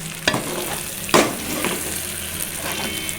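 Stuffed brinjal curry frying in a pan while being stirred, with a continuous sizzle punctuated by two sharp scraping knocks of the spoon and lighter stirring after.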